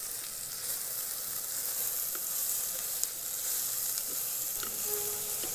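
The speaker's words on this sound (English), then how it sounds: "fry this onion for 2 minutes" Onion frying with a little salt in an Instant Pot, a steady hissing sizzle throughout with a few faint tiny taps and clicks, no voices.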